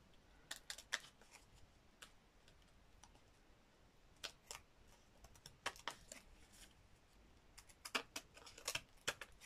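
Scissors make quick, crisp snips, close and quiet, trimming the edges of a small fused-fibre artist trading card, coming in bursts with short pauses.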